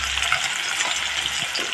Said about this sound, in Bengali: কেটে রাখা পেঁয়াজটা ফোড়নে দিয়ে দিচ্ছি।